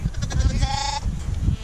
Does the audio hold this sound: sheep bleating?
yes